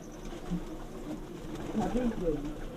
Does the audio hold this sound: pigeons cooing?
yes